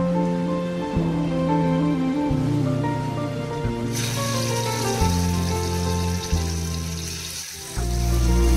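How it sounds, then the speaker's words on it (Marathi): Chicken wings frying in a little oil on a flat tava pan, giving a loud, continuous close sizzle over a steady, layered tonal hum. "आता त्याच तव्यावर आपण चिकन विंग्स फ्राय करून घेऊ."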